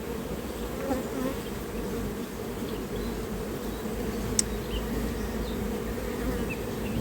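Honeybees buzzing in an opened hive, a dense, steady, close drone of many bees that continues without a break, with no voices heard.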